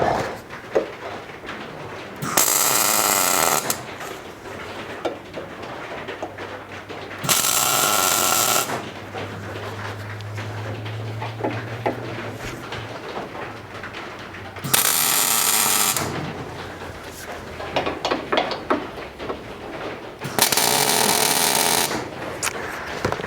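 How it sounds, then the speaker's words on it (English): Tack welds on brackets for a motorcycle shock mount come as four separate bursts of harsh, loud crackling hiss, each lasting a second or two, with quieter shop clatter and handling noise in the gaps. "And then I'll just tack those into place here."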